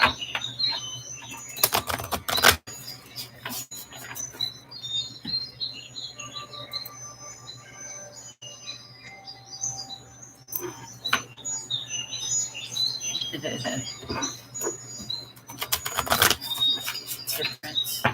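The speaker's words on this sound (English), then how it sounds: "Can you guys hear the birds in the back?" Birds chirp faintly in the background with scattered high calls, under intermittent talking, taps and clatter close by.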